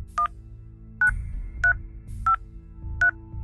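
Five short two-tone phone keypad beeps from a calling card PIN entry, evenly spaced about half a second apart over a steady low hum.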